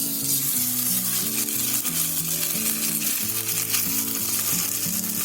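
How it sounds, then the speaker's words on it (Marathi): Leftover sabudana patties frying four at a time in oil in a pan, a dense, steady sizzle with continuous fine crackling heard up close, with no speech. "तेल टाकायचं आणि एका पॅन मध्ये आहे ना 4-4 करून फ्राय करायचे"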